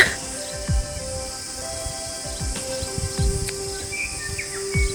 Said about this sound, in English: there's a bellbird making noise, so I'm just gonna wait for him